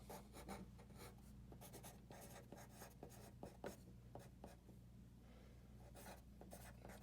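Pen or pencil writing notes by hand on paper, a steady run of short scratchy strokes and taps close by, with no talking.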